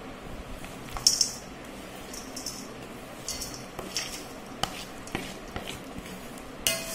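Fried panjeeri ingredients are mixed by hand in a large tray, making soft rustling and squishing with scattered light clinks and taps, quiet and close.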